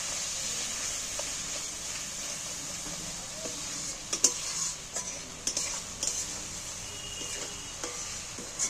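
Mustard and green chilli paste stirred in a pan for a Bengali pomfret fish dish, with a steady soft sizzle and several sharp spoon scrapes and taps against the pan, close and moderately quiet.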